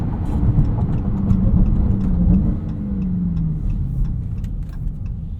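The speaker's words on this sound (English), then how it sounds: "Quick, responsive gear changes." A 2023 Dodge Charger Hellcat Widebody Jailbreak pulls hard under automatic gear changes, its deep engine drone stepping down in pitch at each quick shift, loud and close, with no talking.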